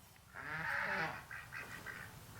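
Farm ducks quack in a raised burst followed by several shorter calls, fairly faint and distant over a low steady background hum.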